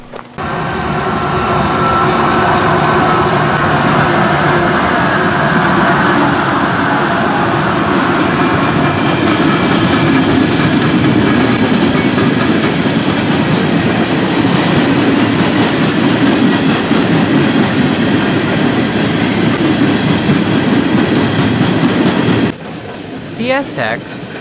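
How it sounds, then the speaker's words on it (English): A CSX westbound coal train hauled by GE AC-44CW locomotives rumbles past close by, a steady loud roar of wagons and wheel clatter holding for over twenty seconds before cutting off abruptly near the end. "a CSX westbound coal train then snuck up on us"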